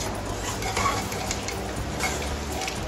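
Chicken being stirred with yogurt in a pot for biryani, a steady soft wet scraping and mixing with faint utensil clinks against the pot, close and continuous with no talk.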